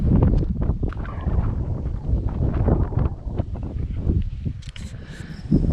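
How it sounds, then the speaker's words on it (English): Strong wind buffets the microphone continuously on an outdoor hiking path, a loud, steady roar with gusty swells throughout, with no other clear sounds standing out. "I hope you can hear me because of the wind"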